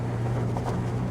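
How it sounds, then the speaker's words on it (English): A Ferrari SF90 Spider's V8 hums with a steady, low drone and constant loudness, with no clear start-up surge, heard close and alone without talk. "let's now put it into the race so we turn on that beautiful V8"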